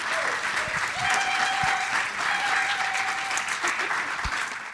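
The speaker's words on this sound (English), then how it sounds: "The camera zooms out as the audience applauds." An audience at a symposium claps steadily throughout, a dense, sustained wash of applause heard close, with a faint voice and a brief tone underneath.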